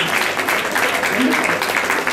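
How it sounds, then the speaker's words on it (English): Audience applause fills a hall at a youth leadership event in Panaji, Goa: a steady, dense wash of clapping with no pauses, loud and close throughout. "I think that cost him a loud round of applause."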